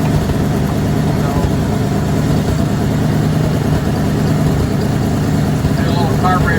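A 1971 Ford wrecker engine idles steadily at close range during a carburetor needle-valve adjustment, a constant low rumble with no change in pace.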